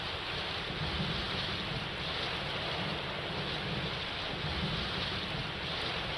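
Steady rain pours down in Kolhapur, a dense, even roar of falling water with a low rumble beneath and no breaks, heard at a distance.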